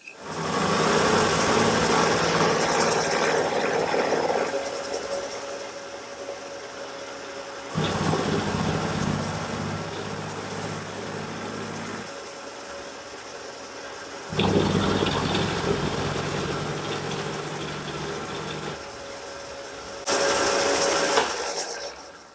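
Metal lathe turning a metal adapter, a steady machining whine and hum running loud and continuous in several long sections with brief shifts in pitch between cuts, no voices.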